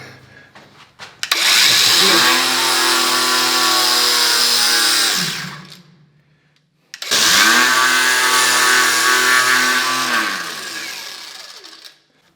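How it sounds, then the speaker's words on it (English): An angle grinder fitted with a 3D printed grinding disc cuts in two long, loud bursts, each spinning up, grinding steadily for several seconds and then winding down. "if you have perhaps grinding machine at home, try it, 3D printed grinding disc"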